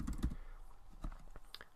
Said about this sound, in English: I can just start typing and my cursor appears.